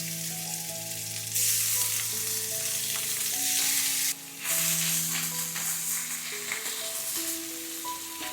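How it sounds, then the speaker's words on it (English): Marinated prawns sear in a hot pan for a shrimp and snow pea stir fry, giving a steady, loud sizzle that flares brighter for a few seconds partway through, with soft music underneath. "Sear the prawns for about a minute on each side"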